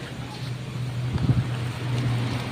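Wind blows steadily outdoors where coconuts are being gathered, a low rumbling gust that swells slightly midway, with no talk.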